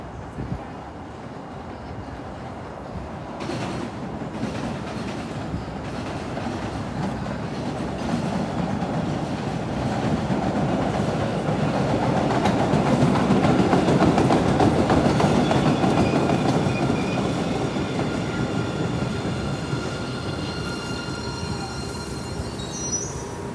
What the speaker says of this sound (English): it is surely cool to see a train running even after the catenaries go down.